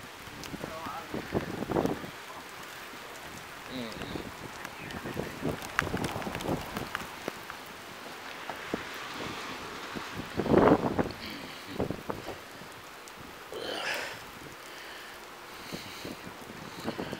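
Rain and gusty wind buffeting the microphone, with irregular loud bursts and some faint talk in the background.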